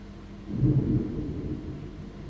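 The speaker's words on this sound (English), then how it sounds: "Damn, that's a lot of lightning." A deep, fairly faint thunder rumble from lightning during a storm in Pokemon Legends Arceus swells and then fades slowly beneath steady low background noise.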